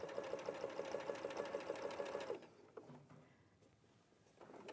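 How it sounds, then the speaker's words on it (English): A sewing machine stitches a quarter-inch seam at a normal stitch length: a rapid, even run of mechanical ticking pulses for about two and a half seconds, then it stops and only faint handling and room noise remain. "So you're stitching a 1/4 inch seam."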